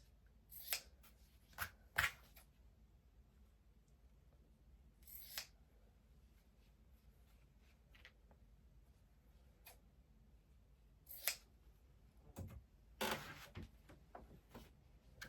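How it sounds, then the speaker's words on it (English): Scissors snip off stitches from quilt pieces while sewing a bow-pattern quilt, several quiet, crisp cuts scattered at irregular intervals with short pauses between, close by and alone without talk. "I'm going to snip off these flipping stitches"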